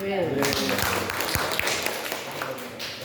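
Clapping and applause break out among attendees at a district health coordination meeting in Banjarnegara, a scattered burst of hand claps mixed with nearby chatter and voices throughout.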